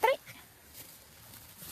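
A dog in a rice field in Bali gives one short close bark at the very start, followed by quiet outdoor background.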